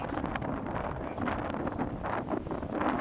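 Steady outdoor wind buffets the microphone at a farm, a continuous loud rumbling roar with gusting swells and no other clear sounds.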